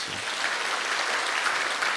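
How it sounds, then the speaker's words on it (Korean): A Korean church congregation applauds during a Sunday worship service, a steady, even wash of many hands clapping together that holds at a constant level throughout, with no speech over it. "우리 참여하여 종로릇 하신 분들에게 우리 박수 한번 하시죠."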